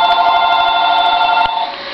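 A telephone rings nearby with a loud, steady electronic warble that holds for most of the moment, then fades a little near the end. No one is talking.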